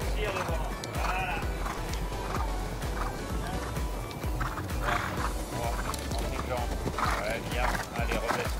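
Horse galloping through an eventing training session, steady rhythmic hoofbeats thudding on the ground throughout, with a rider or coach talking over the continuous outdoor noise.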